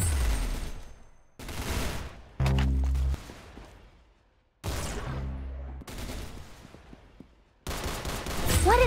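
Gunfire from the Roblox Arsenal video game comes in several loud bursts of rapid shots separated by brief gaps, mixed with game sound effects and tones.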